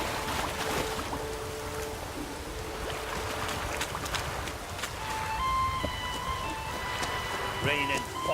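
Rain falls steadily in The Witcher 3: Wild Hunt, a constant hiss of drops under game music and ambient tones, with a character's voice speaking over it.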